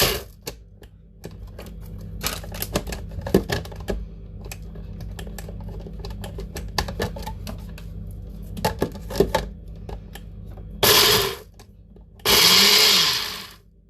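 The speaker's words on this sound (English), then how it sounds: "Put it into your NutriBullet. Chuck the lid on. Sorry, there's going to be noise again." Light clicks and clatter, then two short, loud bursts of a NutriBullet blender whirring as it blends bread near the end, the second slightly longer.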